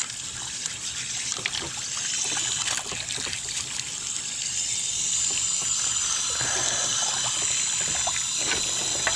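Water splashes and trickles steadily as rusty parts are rinsed during rust removal with Evapo-Rust. The close, continuous running and spattering carries on at an even level throughout.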